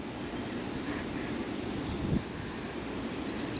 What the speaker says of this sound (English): You do get the noise of the water reclamation center, which means they're cleaning raw sewage.